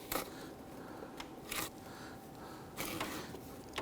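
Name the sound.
camshaft position sensor popping into place in a Hummer H3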